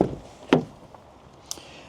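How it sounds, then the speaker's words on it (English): Passenger door of a 2026 Burstner B66 C644 campervan being opened, a single solid clunk of the latch followed by a lighter click, close and fairly loud in an otherwise quiet space. "if you open the passenger door"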